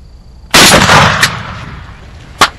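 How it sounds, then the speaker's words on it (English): A shotgun blast during a Florida Osceola turkey hunt: one loud, sharp report with a long rolling tail, then a second shot about two seconds later. Nobody talks. "Shoot him with that shotgun."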